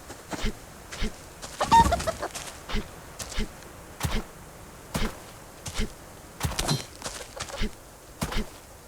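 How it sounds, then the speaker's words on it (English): Chickens in the survival game Subsistence clucking in a steady series of short, separate calls spaced about every half second to second, fairly close and clear with no talk over them. "2 chickens."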